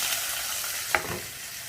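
Coconut pieces fry in oil with mustard seeds, giving a steady close sizzle with one sharp pop partway through and no speech.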